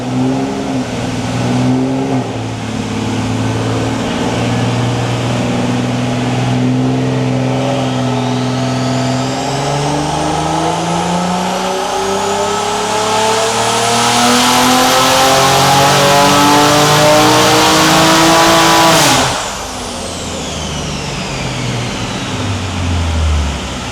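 A Can-Am X3 turbo engine, an X3M competition build, revs hard on a dyno, its loud steady drone climbing in pitch through a long pull before cutting off abruptly into a lower idle.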